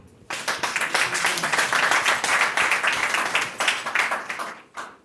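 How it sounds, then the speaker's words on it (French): Sudden, loud applause bursts out from a room of attendees at a business training session, a lively, clattering flurry of hand claps that swells, holds, then cuts off abruptly before one last clap. "On peut l'applaudir."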